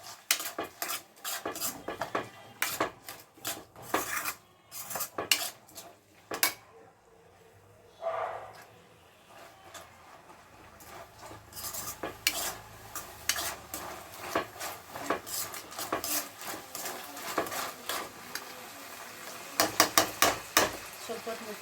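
Horsegram frying in a pan while a metal spoon stirs and scrapes it, giving busy, repeated clinks and scrapes over a faint sizzle, close and steady throughout.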